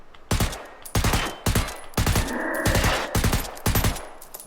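Silenced gunfire from a player's weapon in the game Generation Zero, sharp rapid shots fired in several short bursts of three or four, loud and close, with a brief mechanical whir between volleys and no talking.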